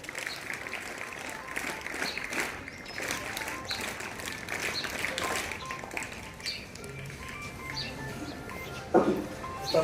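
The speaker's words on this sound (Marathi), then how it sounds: "टाळ्या बघा बाळांनो." An audience at a village event honouring a young musician applauds, a spread of fairly faint clapping lasting several seconds, with scattered chatter and a louder burst near the end.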